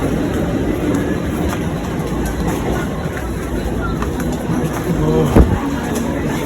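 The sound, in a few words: train arriving at Mahim station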